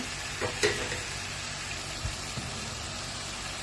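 Medium potatoes hiss and sizzle in hot oil in a pan for a Malayalam-style potato curry, a steady close frying noise with a couple of brief clatters near the start.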